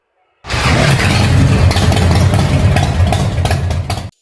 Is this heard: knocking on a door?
no